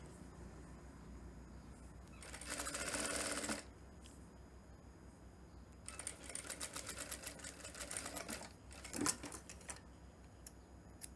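A sewing machine stitches shirt fabric in short, fairly faint bursts, with quiet rattling runs separated by pauses and a small clack near the end.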